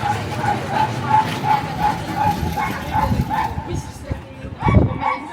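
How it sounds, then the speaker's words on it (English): Several dogs yip and whine in quick, repeated calls with a steady rhythm. A louder bark breaks out near the end over busy background noise, with voices faintly mixed in. "What's going on with the dogs?"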